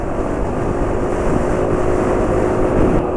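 A steady motorcycle engine drone runs without a break, a smooth continuous motor hum at fairly close range with no voices.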